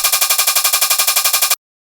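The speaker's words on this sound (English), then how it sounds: "we're going to double up these hi-hats and make them even faster." Doubled sixteenth-note hi-hats from a drum and bass beat, a fast, loud, evenly spaced run of bright metallic ticks that plays alone for about a second and a half, then cuts off.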